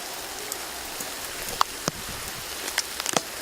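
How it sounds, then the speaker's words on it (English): Heavy rain falls outdoors in open fields, a dense steady hiss with scattered close drops hitting a nearby surface. "But then it started raining really bad, and so I'm out in the fields making this film."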